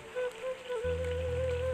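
Heavy rain pours down on a village among rice fields during the rainy season, a steady broad wash of falling water with a low hum beneath it throughout.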